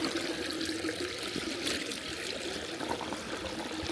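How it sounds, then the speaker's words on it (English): Glacial meltwater from the Matanuska Glacier gushes steadily through a small crevice in the ice, a continuous close, dense rushing and splashing with no pauses. "Yeah, pure water."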